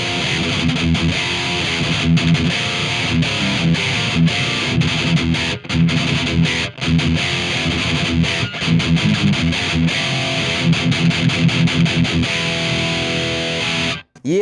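A distorted electric guitar played through a Mesa Stiletto amp with scooped mid EQ, loud, thick rhythm riffing with chugging palm-muted passages and short breaks, playing alone until an abrupt stop.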